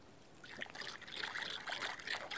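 A few drops of water trickle and splash into a mix of sugar and white wine vinegar in a kitchen, a soft, close, irregular dribbling that runs on with no voices.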